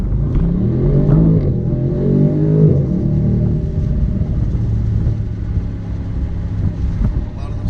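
A 2019 BMW M850i Convertible produces a deep, loud engine and exhaust rumble that rises in a couple of rev sweeps and then settles into a steady low drone with wind noise.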